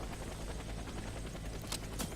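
Helicopter in the first-person shooter game Warface, a steady low rotor thrum filling the scene at moderate level, with a couple of brief sharp bursts near the end.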